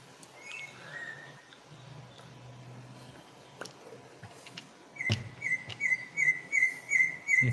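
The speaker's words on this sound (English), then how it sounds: "Birds are out." Birds chirp outdoors, at first a few faint calls against quiet background noise, then a bright, repeated whistled chirp pattern comes in near and clear over the last few seconds.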